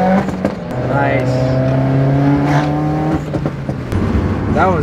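A widebody Subaru WRX engine revs nearby, its tone holding and then climbing in sweeping pitch, with people talking over and around it.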